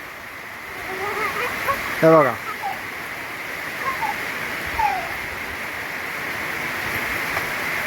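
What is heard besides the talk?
heavy monsoon rain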